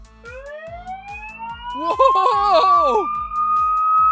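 An electronic toy police car siren wails at a children's museum, its pitch rising then holding over a rapid clicking beat, while a voice briefly exclaims partway through.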